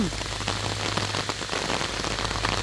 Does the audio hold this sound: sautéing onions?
no